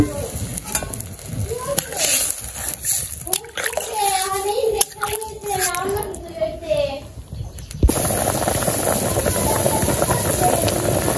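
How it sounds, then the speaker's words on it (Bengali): Water is poured into a pan of lightly fried vegetables cooking in a village kitchen, the stirring and sizzle giving way to a loud steady rush and hiss in the last few seconds, with voices talking over the cooking. "জল দিয়ে দিলাম।"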